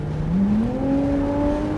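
A hybrid car accelerates at full throttle on a cone-marked driving course, its engine and electric whine rising steadily in pitch over a couple of seconds, loud and close with no talk over it.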